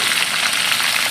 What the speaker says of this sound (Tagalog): Balik natin ang ating nasir na pork sa ating kawali.